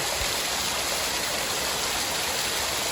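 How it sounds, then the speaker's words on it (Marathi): Steady rushing water of a small private waterfall, a constant broadband hiss and splash filling the whole stretch, close and even with no clear voices. "एक प्रायव्हेट वॉटरफॉल आहे, त्यामध्ये मी आंघोळ करणार आहे आत्ता"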